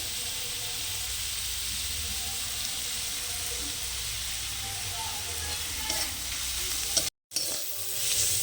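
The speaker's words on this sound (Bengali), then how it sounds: "আমি একটু গুঁড়ো লঙ্কা দিয়ে দিলাম দিয়ে ভালো করে ভেজে নেব" Chili powder and turmeric fry in hot oil, giving a steady, close sizzle with soft stirring scrapes, briefly cut by a moment of silence near the end before the frying hiss resumes.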